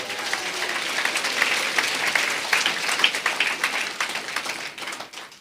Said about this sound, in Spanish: Fuerte aplausos